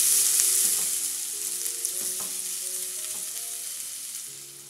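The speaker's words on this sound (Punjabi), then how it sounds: "ਇਸ ਪਿਆਜ਼ ਨੂੰ ਨਾ ਹੁਣ ਆਪਾਂ ਬਰਾਊਨ ਹੋਣ ਤੱਕ ਭੁੰਨ ਲੈਣਾ" Finely chopped onion fries in hot oil for palak saag, a bright, continuous sizzling hiss close by with soft stirring, while faint tonal music plays underneath.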